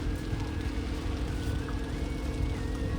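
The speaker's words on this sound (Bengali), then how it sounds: "এই দেখুন একটা ট্রলার যাচ্ছে" A fishing trawler passes on the Roopnarayan river, its steady low engine rumble running continuously beneath wind buffeting the microphone.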